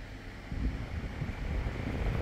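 Airflow from a Toshiba air conditioner on display at a Mega Market shop, a steady broad whooshing hiss that grows slightly louder after the first half second and holds steady with no talk.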